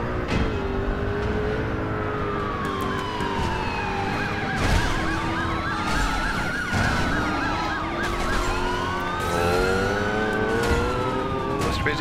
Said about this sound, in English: Oh, turn off the siren.